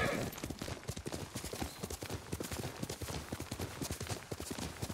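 Horse hooves clip-clop at a steady walking pace on the ground in Ghost of Tsushima, a dense run of close, moderately loud hoofbeats with no talk over them.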